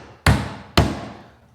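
Two sharp, loud strikes about half a second apart from a Vaughan all-steel 20-ounce claw hammer driving nails, each blow ringing out and decaying slowly, with no talk.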